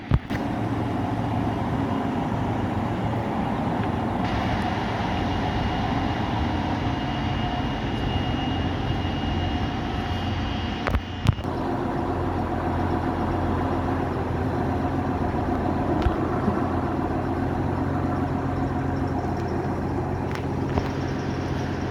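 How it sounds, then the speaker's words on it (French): An Alstom Coradia Liner diesel trainset idles at a station with a steady low engine drone and hum, a brief clank midway, then continues at a constant level across the whole stretch. "nous avons un moteur qui vient de s'éteindre, car la rame elle est mise en service"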